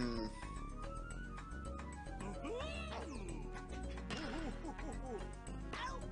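A cat meows repeatedly in a game, rising and falling cries spread across several seconds over busy background sounds, with a person speaking at times.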